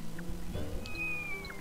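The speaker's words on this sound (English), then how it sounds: "Ugh, stupid cat." A cat in the video game Braid meows, a short wavering cry over a low ambient game music bed, fairly clear and close.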